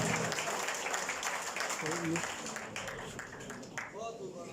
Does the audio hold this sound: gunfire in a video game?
no